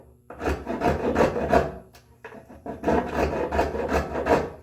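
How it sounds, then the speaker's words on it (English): A hand wood rasp shapes a walnut bookcase in close, steady rasping strokes, a run of about five rough scrapes, a short pause, then another run of strokes. "what I'm going to do is I'm going to take my rasp"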